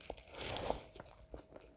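A bite into crunchy French toast with a browned, crisp outside and creamy custard middle gives a faint, close crunch followed by soft chewing sounds in a quiet room.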